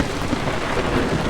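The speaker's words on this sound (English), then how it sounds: "It's raining." Steady, dense rain and hail hiss in the video game Vintage Story, with a soft low rumble underneath, continuous and fairly loud, no voices.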